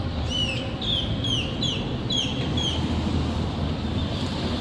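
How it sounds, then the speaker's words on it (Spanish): Birds sing in a park beside the Nuestra Señora del Rosario temple (Templo Padre Galván), with a run of quick, bright descending chirps over a steady outdoor background, fading to sparse calls. "mientras el cantar de los pájaros hace que la vista sea especial."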